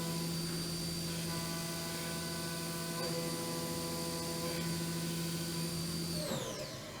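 Haas Mini Mill 2 CNC milling with a carbide zirconium nitride coated finish cutter at 10,000 RPM, a loud steady high whine with stable tones throughout, winding down in pitch at the end.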